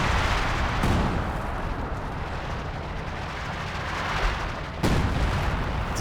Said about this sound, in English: LFH going for a barrage.